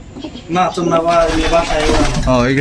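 Pigeons coo in a large loft packed with birds, soft throaty calls close by, partly under a voice as he speaks nearby.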